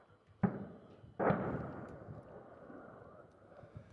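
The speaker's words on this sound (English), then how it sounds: "There's a little explosion there." Two sharp thuds in combat footage, a small explosion among them, each followed by a rumbling decay, heard fairly faint and distant.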